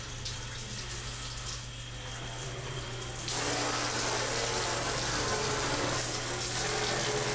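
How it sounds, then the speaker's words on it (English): Water rushes steadily down a bathtub drain just cleared of a clog, a continuous close gurgling wash that grows louder partway through and holds, with no voices. "It's always satisfying to see the water drain down."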